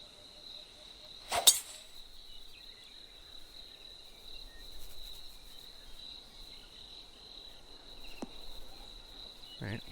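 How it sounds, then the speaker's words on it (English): Steady crickets chirping on a quiet golf course in PGA Tour 2K25, a constant high drone under the scene, with a sharp thwack early on and a couple of faint clicks later. "So quiet, you can hear the crickets."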